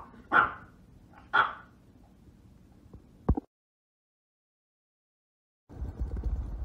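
A dog gives two loud, close barks about a second apart, followed by a sharp knock, a stretch of silence, and then a low rumbling noise.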